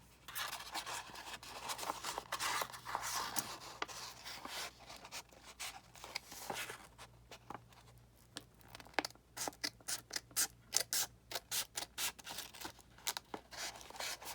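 Scissors snip through paper while an envelope is cut for a Halloween junk journal craft. Rapid, close, quiet clicks and scratches build into a quick run of short cuts near the end.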